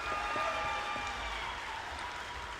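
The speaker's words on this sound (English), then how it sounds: "round of applause for the Timberlane Dance Team." An audience at a charity dance show applauds the Timberlane Dance Team, a fairly faint, even wash of clapping from a crowd heard at a distance in a large room.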